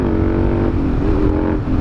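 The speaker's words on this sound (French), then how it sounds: "c'est le meilleur bruit sur une moto" A motorcycle engine revs hard and continuously up close, loud and steady throughout with a throaty rumble rising and falling in pitch.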